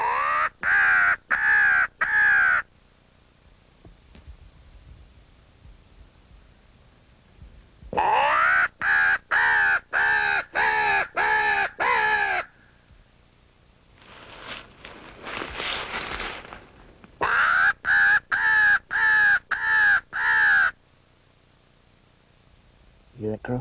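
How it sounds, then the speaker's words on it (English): Crows caw loudly in three quick bursts of rapid, harsh calls during a crow hunt, with a rustling, shuffling noise in the quiet gap between the second and third bursts. "You hear that crow?"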